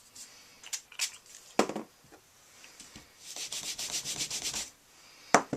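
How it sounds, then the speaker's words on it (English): Rubber stamp being scrubbed clean on a stamp scrub pad, irregular short rubbing strokes followed by a quick run of rapid back-and-forth scrubbing, close and fairly quiet. "Let me just clean my stamp here."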